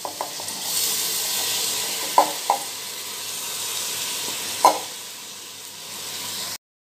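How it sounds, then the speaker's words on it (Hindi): Washed dal and rice tossed with vegetables sizzle gently in a pan, a soft continuous hiss with a few sharp spoon knocks against the metal, close by and without speech. "दाल चावल को भी सब्जियों के साथ अच्छी तरह से मिला लेंगे हम, और मिला के 2-3 मिनट तक इन्हें भी भून लेंगे।"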